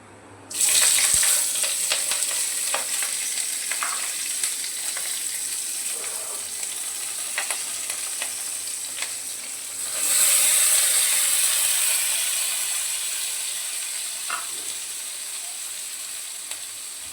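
Sliced potatoes, chopped onion and green chillies hit hot oil tempered with black cumin, giving a loud steady sizzle that swells again midway, close up with no talk.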